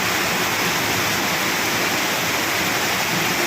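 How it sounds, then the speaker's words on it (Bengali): Heavy rain with big drops pours down on the eve of Mahalaya in Kolkata, a dense, steady hiss-roar that stays unbroken and fairly loud throughout, with no voices. "কি জোরে বৃষ্টি হচ্ছে, বড় বড় ফোঁটা"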